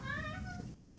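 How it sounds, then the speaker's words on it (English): A cat gives a single drawn-out meow, close and fairly clear, fading after about two-thirds of a second. "Was that a cat?"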